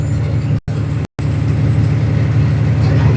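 A loaded semi truck's loud engine rumbles steadily while driving, a deep close drone broken by two brief dropouts.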